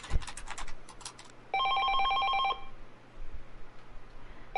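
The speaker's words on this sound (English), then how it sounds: "the ringing phone broke his train of thought" An electronic telephone ring in the video game 428: Shibuya Scramble, a single warbling ring of about a second following rapid keyboard typing, with another ring starting at the end.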